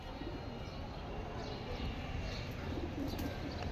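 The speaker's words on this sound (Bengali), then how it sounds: "জোড়া কালো করা কবুতর" A pair of black pigeons cooing at a pigeon farm, soft low coos under a steady rumbling background noise, faint and somewhat distant.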